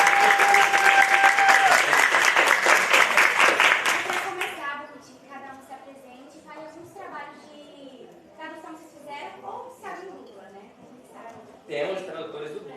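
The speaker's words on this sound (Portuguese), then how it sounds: "passar os palmas pra eles de novo. Merece." Audience applause at a panel on translation for dubbing at the Dublacon 2022 convention, a loud dense burst of clapping for about four seconds that fades, followed by a person talking with brief scattered claps.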